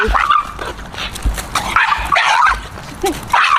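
A young dog barks and yips in sharp repeated bursts, loud and close, with whimpering notes between during a behaviour correction.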